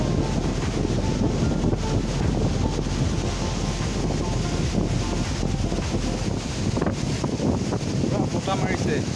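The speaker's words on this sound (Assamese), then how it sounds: "বতাহ মাৰিছে" Wind blowing at Parshuram Kund, a roaring mountain river site, heard as continuous low buffeting gusts against the microphone with a rushing, water-like wash underneath.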